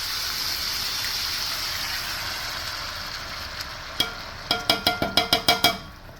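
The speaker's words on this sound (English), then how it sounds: "I'm going to go ahead and add our French onion soup." Condensed Campbell's French onion soup poured into a hot browned dish, a soft sizzling wash first, then a run of sharp rhythmic clanks and taps near the end, close and clear with no talking.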